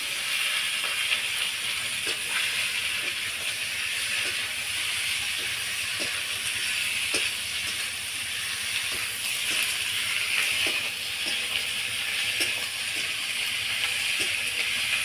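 Snake gourd tipped into a hot karahi over onions fried until red with dry chillies and whole spices, giving a steady, close frying hiss that runs the whole time with faint scattered crackles.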